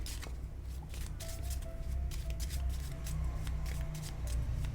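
Tarot cards shuffled and handled for a reading, a soft continuous papery riffling with scattered flicks at steady loudness, heard close and alone with no talk.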